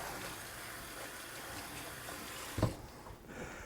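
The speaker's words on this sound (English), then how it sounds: "Let me rinse my knife off here." Running water from a tap flows steadily as a knife is rinsed in a kitchen, a soft continuous splash with a brief sharper clatter near the end, then quieter flow.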